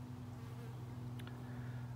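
A honey bee swarm on a cedar tree keeps up a low, steady droning hum, faint and continuous outdoors with no talk over it.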